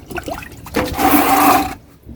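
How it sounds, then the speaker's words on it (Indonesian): Eco-enzyme liquid fertilizer pours into a rainwater storage tank and is stirred, giving a steady, fairly close watery gush that builds for about a second and then trails off into a soft trickle. "Jadi ini aku mau tuangin ke tempat penampungan air hujan aku."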